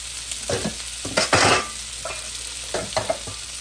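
Peppers and onions stirred in a hot oiled pan for gourmet ramen: a handful of close spatula scrapes and clatters over a quiet sizzle, with no voices.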